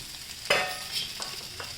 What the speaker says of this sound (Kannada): ಇದನ್ನ ಎಣ್ಣೆ ಕಾಯಕ್ಕಿಟ್ಬಿಟ್ಟು ಈ ಕೊತ್ತಂಬರಿ ಸೊಪ್ಪು ಇದಕ್ಕೆ ಹಾಕ್ಬಿಡಿ